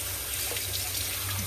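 Steady rush of water pouring from a tap into a vessel as ice is washed, a continuous close splashing flow with no voices.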